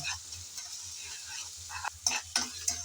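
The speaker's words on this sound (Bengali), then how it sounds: "আদা আর রসুন বাটা দিয়ে আবারও কিছুক্ষণ নেড়ে চেড়ে মিশিয়ে নেব" Ginger and garlic paste frying in a pan is stirred. A steady close sizzle is joined near the end by several sharp scraping clicks of the spatula.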